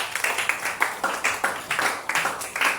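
A church congregation clapping together in a steady rhythmic beat, close and lively, about four claps per second, with no voices over it.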